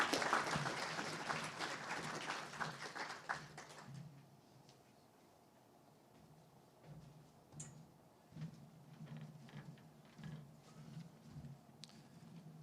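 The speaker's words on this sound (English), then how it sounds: "a round of applause" A crowd at a community candidate meeting claps briefly at the start, the applause fading within a few seconds into quiet room noise with scattered small taps and clicks.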